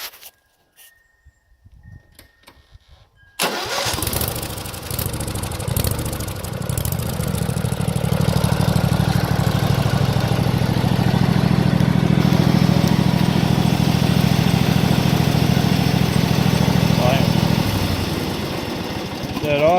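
A lawn mower engine, fitted with a simple one-wire charging system, is pulled into life after a quiet start and settles into a steady, loud, close idle that holds for most of the clip.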